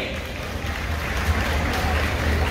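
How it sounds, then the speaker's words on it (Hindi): Audience applause at a Diwali celebration, a dense, continuous wash of clapping from a crowd that holds steady and swells slightly for a couple of seconds. "प्रीति जी राठी ने अपने सीट से ही हमें शुभकामनाएं दे दी है, तालियां होनी चाहिए।"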